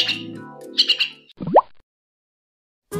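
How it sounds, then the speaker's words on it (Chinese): A hand-raised pet myna bird calls nearby with a few bright chirps, then a rising whistled note, a pause of silence and one more short call at the end. "这是我养了三个多月的八哥"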